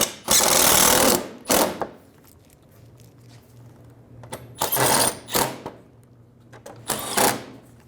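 Power tool driving bolts into the splash shield of a 2000-2007 Ford Focus, three loud buzzing bursts separated by pauses, close up, with a faint low hum between them.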